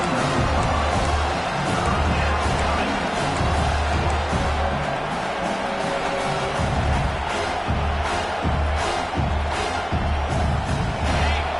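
A home crowd cheers at a USF Bulls college football game as the defense faces third down, a broad, sustained roar of voices and whoops that fills the whole stretch at steady loudness.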